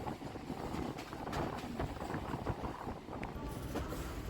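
A fast Sealdah–Barrackpore galloping local train runs steadily, close by with a continuous broad rumble and rattle and no clear pauses or horn.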